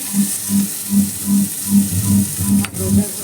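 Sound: bitter gourd frying in pan

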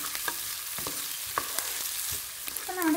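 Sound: onions, green chillies and salt sautéing in a pan for soybean curry

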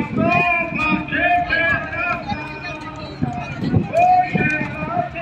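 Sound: horses' hooves clip-clopping during a horseback cavalcade

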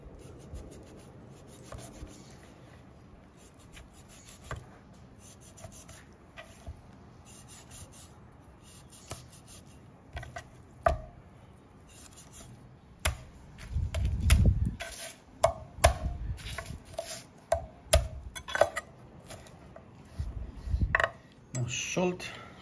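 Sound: knife cutting pork knuckle skin

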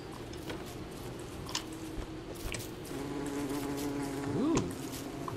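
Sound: bees buzzing in Don't Starve Together video game

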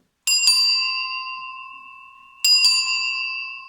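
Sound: bicycle bell ringing

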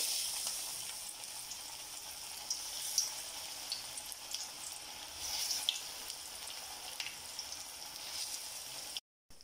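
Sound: plantain flower vada deep frying in oil

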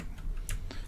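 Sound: typing a git clone command on a computer keyboard

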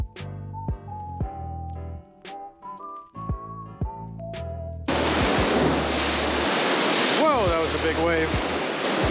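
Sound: ocean waves crashing against pier wall in rain

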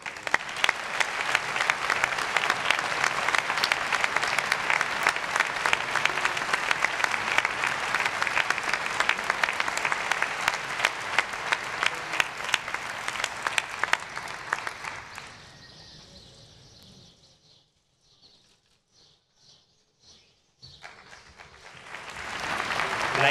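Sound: audience applause at award ceremony

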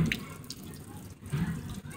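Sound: water at Blue Springs

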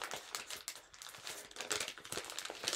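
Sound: paper being folded for origami praying mantis

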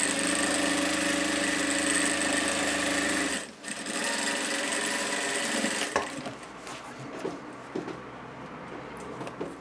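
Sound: sewing machine stitching fabric pockets

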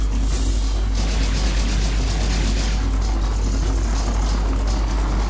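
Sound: helicopter sound in video game Serious Sam 2

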